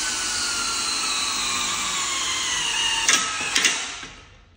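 A steady high-pitched power drill whirs continuously, driving a REVOLOK 6600 drill chain binder on setting 1, with a couple of clicking clutch bursts near the end before the motor winds down.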